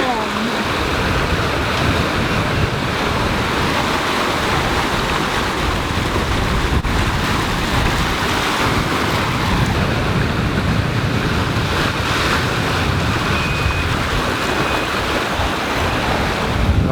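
Strong wind buffets the microphone over steady ocean waves and rushing water while a sailboat runs downwind in stormy Atlantic conditions, a continuous loud roar with no breaks.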